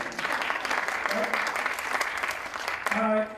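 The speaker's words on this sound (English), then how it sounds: "clap it up, it's okay." An audience at a school board meeting applauds steadily and loudly throughout, a dense wash of clapping with a voice briefly audible near the end.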